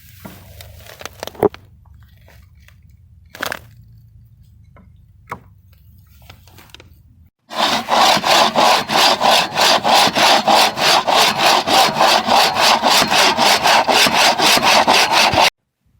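Hand saw cutting through a 4x4 wooden board in steady, rapid back-and-forth strokes, loud and close, after a few scattered knocks and quiet handling sounds.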